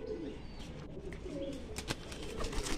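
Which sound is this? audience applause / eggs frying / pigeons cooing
pigeons cooing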